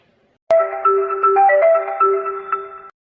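A mobile phone ringtone plays an incoming-call melody, a steady electronic tune with clear repeating tones that starts abruptly and sounds near and loud, with no talking.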